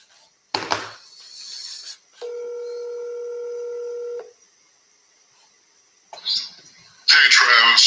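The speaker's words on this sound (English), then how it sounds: "Oh, I got to call him on my cell phone." A cell phone places a call: a steady ringback tone with harmonics holds for about two seconds amid rustling handling noise, with a person talking before and after.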